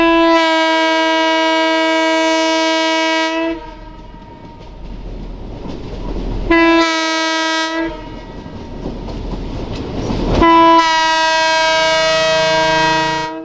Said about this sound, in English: the Nebraska Zephyr being led by Chicago, Burlington, and Quincy 9911A, a rare EMD E5 locomotive